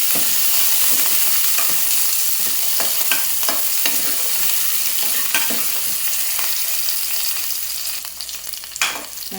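Onions and curry leaves fry in a hot tempering pan with a dense, continuous sizzle and repeated scraping stirs, close and loud, easing off slightly near the end.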